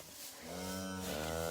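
Cows call near their calves in a farm calf shed, a steady, drawn-out low moo that swells and holds to the end, fairly close and heard alone.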